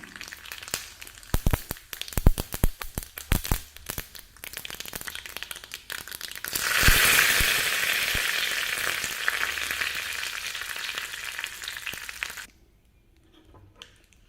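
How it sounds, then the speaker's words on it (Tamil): Urad dal and mustard seeds are tempered in hot oil for amla chutney: close, irregular crackles and pops at first, then a sudden loud, steady sizzle that cuts off abruptly near the end. "எண்ணெய் சூடாயிடுச்சுங்க உளுந்தம்பருப்பு சேர்த்துக்கிறேங்க கடுகு கொஞ்சமாக"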